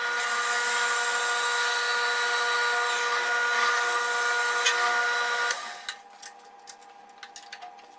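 A drill press bores an 8.5-inch-deep hole with a long bit, giving a steady whirring, ticking drone that cuts out near the end and leaves faint scattered clicks.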